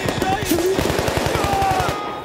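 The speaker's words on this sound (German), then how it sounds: "da kriegst du von allen Seiten Beschuss gerade" Rapid machine-gun fire in Battlefield: Bad Company, a dense regular burst of shots from several directions, loud and close for about two seconds.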